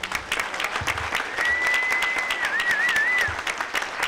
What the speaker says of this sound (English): I want to give a round of applause, please, to the entire American Pinball staff